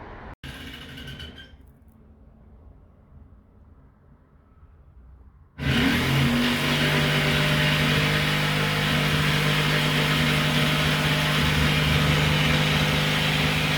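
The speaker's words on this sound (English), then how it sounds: "So jigsaw, lines drawn there, it's all lined up, so we're going to go and cut." A jigsaw cuts through a drawn line in wood: a few seconds of quiet handling, then the saw starts abruptly and runs with a loud, steady buzzing whine to the end.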